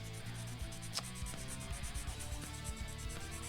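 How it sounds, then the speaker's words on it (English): Sandpaper rubbing a circuit board from a Wii console to clean it, a close scratchy back-and-forth rasp in steady strokes with no voices. "But we're just going to do a little bit more sanding to make sure that this board is nice and clean."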